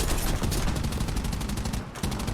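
A B-34 aircraft gun in an air combat game rattles out a loud, fast, evenly pulsed burst with a brief break before the firing resumes.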